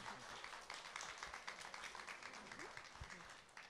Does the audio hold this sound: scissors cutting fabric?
no